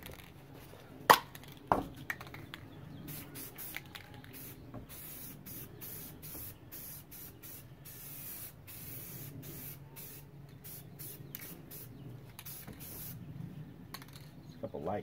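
Black satin Rust-Oleum spray paint hisses from an aerosol can onto 1995 Ford Ranger wiper arms, a steady close hiss in light coats, with a couple of sharp clicks near the start.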